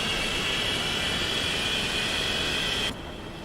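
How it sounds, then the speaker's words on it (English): Twin jet engines of a Boeing 737-200 running in the X-Plane 11 flight simulator: a steady, loud roar with a sustained high whine that drops away sharply near the end. "Right, both engines are running,"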